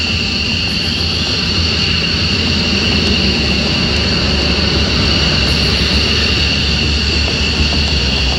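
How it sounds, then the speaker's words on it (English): A fighter jet's afterburner roars during its takeoff roll down the runway, a loud, continuous and close engine blast with a steady hiss that persists throughout, with no voices. "it's always a thrill to feel the afterburner kick in and accelerate you down the runway"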